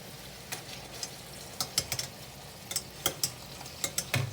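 Pork chops brown over medium heat in a pan, a soft low sizzle with scattered sharp ticks and pops from the fat, fairly quiet and with no voices.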